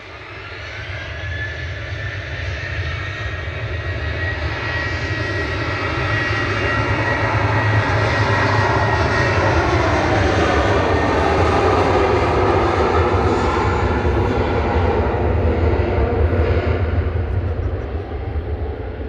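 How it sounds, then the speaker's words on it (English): A Boeing 737-800 jet takes off from Manchester Airport, its engine roar building steadily and holding loud and broad for the whole stretch, with no voices. "Got 2E732 departing to Agadir there, GTAWV, a 737-800"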